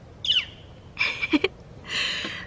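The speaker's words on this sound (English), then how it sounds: "Oh, bird chirping." A bird chirping outdoors, with a few short, bright calls separated by pauses and the last call slightly longer and rougher, all fairly close against a quiet background.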